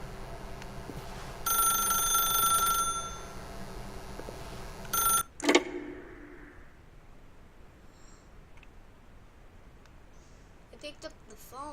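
An old-fashioned telephone bell in The Stanley Parable rings in a sustained burst, followed by a brief second ring and a loud clack as the receiver is picked up, leaving quiet room tone and faint game sounds.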